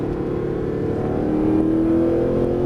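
A Mercedes-Benz SLS AMG accelerating on a Las Vegas race track, its engine note a steady, loud drone that climbs in pitch as the throttle is held through a corner.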